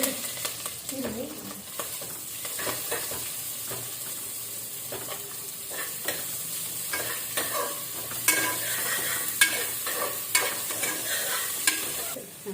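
Okra (bhendi) sizzles in a pan while being turned and stirred, a steady faint fry broken by scraping spatula clicks and knocks.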